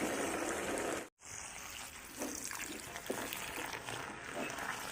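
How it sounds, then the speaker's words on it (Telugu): Water gushing and splashing close by while clothes soak in detergent water, with a brief cutout near the start and soft sloshing continuing afterward. "సర్ఫేస్ నీళ్ళు బట్టి బట్టలు నానబెడుతున్నాను."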